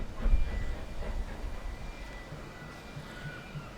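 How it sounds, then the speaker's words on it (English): Small prairie steam locomotive number 5542 pulling out of the yard at a heritage railway gala, a low rumble and chuffing that fades as it draws away, quiet and moderately distant with no talk. "the so-called small prairie loco, number 5542, and we shall watch her leave the yard"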